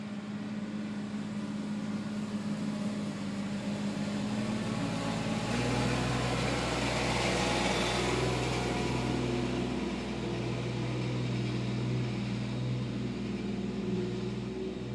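A lawn mower's small engine drones steadily outdoors while cutting grass, its pitch shifting and growing louder partway through, a continuous mechanical hum with no speech.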